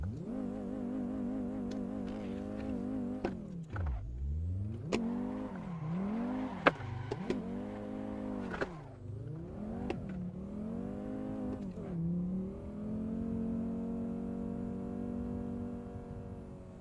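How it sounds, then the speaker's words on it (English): A car not built for drifting has its engine revved hard and repeatedly during a drift attempt, pitch climbing and dropping in sharp swells and dips, then settling into a steady high drone, loud and close. "This car is not supposed to be drifted. Let's see if it can."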